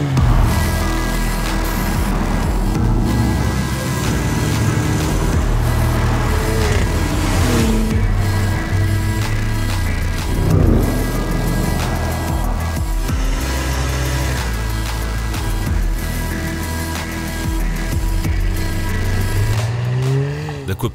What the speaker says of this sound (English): This is the sound of the new Cayenne Coupé.